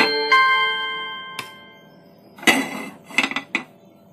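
Ghee spooned into the cups of a hot appe pan on the stove: a ringing metallic clink of spoon on pan, then a cluster of sharper taps and scrapes of metal, close and alone with no talk.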